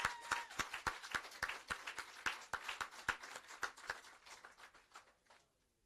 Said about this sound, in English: let's all give her a round of applause for her benefit.